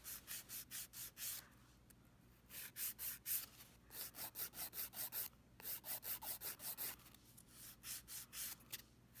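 Rhythmic strokes of a hand file shaping an acrylic nail into a tapered square, with bursts of rapid back-and-forth rasping broken by short pauses, close and fairly quiet with no talking.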